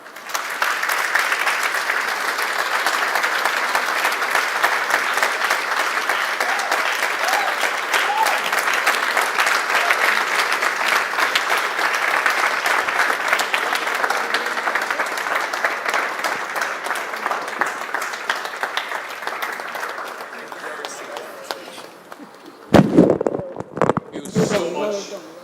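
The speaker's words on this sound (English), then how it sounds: "I'm sure we could give her another round of applause." A large audience at a business event applauds after a speech, long sustained dense clapping that slowly thins out, then a few scattered claps and rustling noises at the end.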